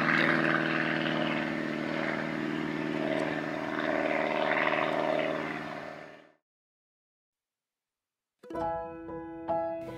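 Helicopter heard in an outdoor setting: a steady, loud rotor and engine drone with pulsing low harmonics holds for about six seconds, then cuts to silence, and a different tonal engine-like sound starts near the end.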